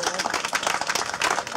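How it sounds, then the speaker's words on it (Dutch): Audience applause at the opening of an outdoor fitness park, a steady patter of many hands clapping close by, loud and continuous with no voices over it. "Dames en heren, geef ons talent even een daverend applaus."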